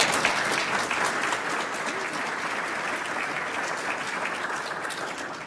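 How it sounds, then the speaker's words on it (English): An induction ceremony audience breaks into broad, even applause that holds steady for over five seconds at a moderate distance, with no talk over it. "I'm glad to hear that applause"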